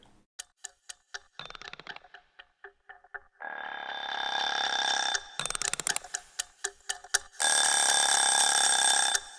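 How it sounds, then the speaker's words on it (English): Egg timer tones from a sampled tick-tock instrument: bursts of sharp rhythmic ticks alternate with sustained bright metallic ringing, alone with no voices. "we got the ring sounds as well. These are egg timers after all."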